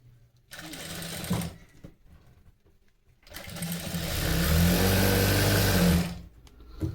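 Sewing machine stitching thread piping onto a blouse, two loud close bursts of rapid mechanical whirring, a short run then a longer sustained one, separated by a quiet pause.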